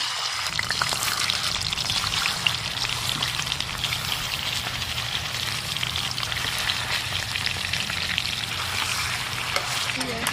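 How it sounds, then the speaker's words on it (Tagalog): Oil poured into a hot pan sets off a loud, dense, continuous hiss and sputter of frying that fills the whole stretch at an even level, close by. "Ngayon mainit na. Maglagay lang tayo ng kaunting mantika."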